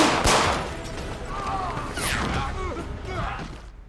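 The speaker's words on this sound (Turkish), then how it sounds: "boğuşma sırasında çıkan silah seslerini duyan diğer çete üyeleri de arkaya koştu." Gunfire crackles in an interactive story video game during a gang fight scene, with bursts of shots mixed with other game sounds and a voice speaking over it, at moderate loudness.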